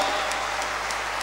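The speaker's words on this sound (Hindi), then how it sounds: "पहले तो इन बेटियों के लिए ताली होनी चाहिए।" Applause for young women athletes in Haryana breaks out at an event, a steady wash of clapping from a crowd carrying on for about a second.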